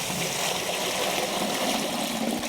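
Water pouring steadily into a bucket to mix gypsum wall plaster, about ten litres, a continuous close splashing trickle with no speech.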